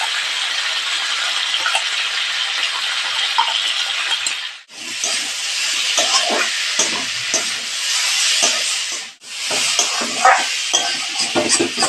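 Chela fish curry cooking with spices in a pan, a loud, continuous frying hiss close by, twice cutting out briefly, with faint stirring clinks underneath.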